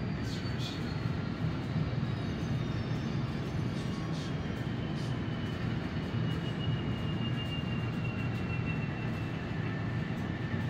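A model railroad train runs on its layout, a steady continuous rumble and whir with faint high squeals from the wheels, holding evenly throughout.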